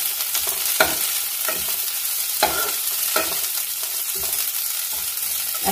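A spatula stirs carrot and cabbage in a pan for thukpa, giving regular scraping strokes about once a second over a soft, steady sizzle, with no voices.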